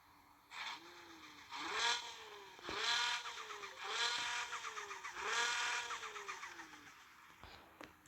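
A virtual car engine in the Car Parking mobile game revs up repeatedly, with about four rising bursts in a row, fairly quiet and with no talking.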